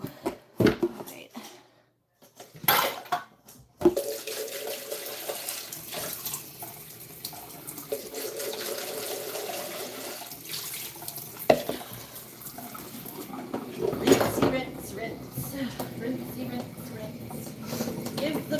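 A bin rinsed under running tap water: a steady, close rush of water splashing into a sink, with a voice talking over it and brief interruptions early before the flow settles into a continuous stream.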